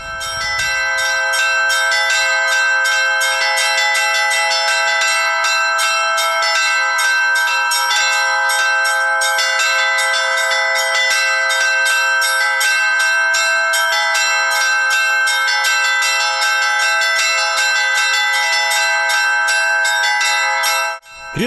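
Church bells pealing from inside the Trinity Church bell tower in Tutaev, loud and very close, a dense continuous ringing of several bells together with a steady rhythmic clang for the whole stretch.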